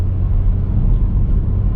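A Renault Sport Clio 220 Trophy in sport mode holds its engine at steady high revs, a loud, continuous low rumble and drone from inside the car with no gear change.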